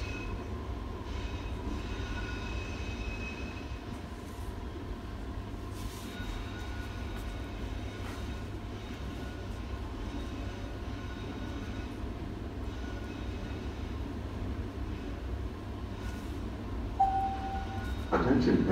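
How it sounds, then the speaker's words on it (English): Steady rumble and rattle of a Red Line subway train to Alewife rolling into a station, with screeching metal and hum throughout, ending in louder clunks. "the next red line train to Alewife is now arriving."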